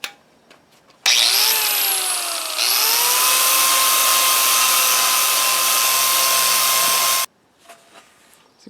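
An angle grinder fitted with a flap disc works the surface of a cast iron pan, a loud high whine that spins up, dips briefly, then runs steadily for about six seconds before cutting off.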